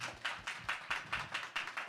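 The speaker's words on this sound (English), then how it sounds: "Round of applause for that." An audience claps in a round of applause at a talk, a fairly quiet, steady patter of hand claps repeating in quick bursts with no voices over it.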